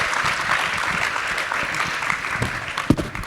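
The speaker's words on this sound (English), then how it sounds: "please give them a round of applause" An audience applauds steadily, a dense wash of clapping that holds at an even level throughout, with a few sharper claps near the end.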